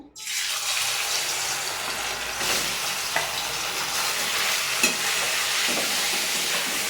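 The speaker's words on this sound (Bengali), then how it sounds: "এই যে এখানে তেল গরম হয়ে গেছে এবার আমি চিকেনটা দিয়ে দেবো" Chicken pieces hit hot oil in a kadai, a loud, steady broadband sizzle that starts abruptly and holds close and continuous, with a few faint clicks of utensils and no talking.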